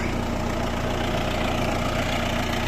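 A tractor engine runs steadily while pulling a Simulta 2500 seeder through a field sown with soy, sudangrass and alfalfa, a loud, unbroken droning hum close by with no speech.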